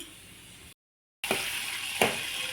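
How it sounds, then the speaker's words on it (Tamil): Cashews frying in ghee in a pan for sweet pongal, a steady soft sizzle that cuts out briefly and then returns louder, with a couple of stirring scrapes. "ஒரு வானலில் நெய் விட்டு கொஞ்சம் முந்திரி பருப்பு போட்டு வறுத்து எடுத்துக்கலாம்"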